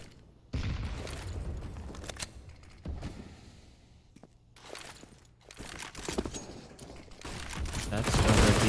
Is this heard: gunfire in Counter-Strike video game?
yes